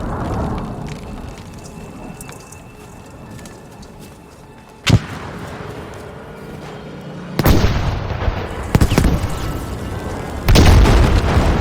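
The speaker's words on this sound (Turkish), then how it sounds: "Bomba patladı." Several booming bomb explosions in Battlefield 5 punctuate a steady background of game noise, with sharp bursts arriving at irregular intervals.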